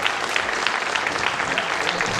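Thick, continuous applause rises from a crowded congress hall in Capilla del Monte, many hands clapping together in an unbroken, fairly loud ovation with no voices over it.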